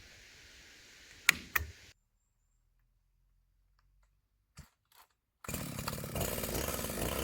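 A 52cc clone chainsaw fitted with an oversized carburetor runs briefly with a couple of sharp clicks, then goes quiet apart from a few faint taps before the engine roars back up loud and steady.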